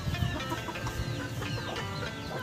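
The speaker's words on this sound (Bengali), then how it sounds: "তো দেখেন এখন রুমের ভিতরে কত সুন্দর করে মুরগিগুলো" Chickens clucking indoors in a coop room where they perch among bamboo poles, several birds producing overlapping soft clucks and calls against a steady background hum.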